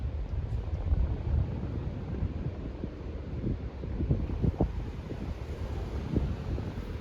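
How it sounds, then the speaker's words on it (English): Strong wind outdoors buffeting the microphone, a continuous low rumbling roar with irregular gusty thumps throughout. "It seems so windy."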